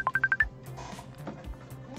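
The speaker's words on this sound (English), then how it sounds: "I'm getting a phone call, sorry." An incoming phone call in the visual novel game Arcade Spirits announces itself with a quick run of five bright electronic beeps, followed by soft background game music.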